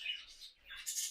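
Pet birds chirp in short high bursts nearby, a couple of bright twittering calls separated by a brief quiet gap.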